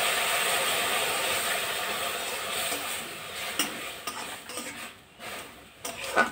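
Dissolved powdered milk pours into a cooking pot with a steady liquid hiss at first, then spoon stirs and light clinks of metal against the pot near the end.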